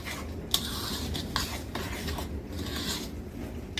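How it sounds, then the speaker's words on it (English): Dry baking ingredients with walnuts and raisins being stirred together in a bowl, a steady scraping, rustling mix with a few sharper clinks, close and fairly quiet with no talk. "Now we want to mix this good, and this is our dry ingredients."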